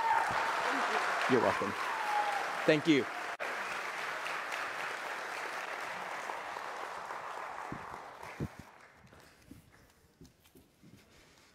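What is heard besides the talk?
audience applause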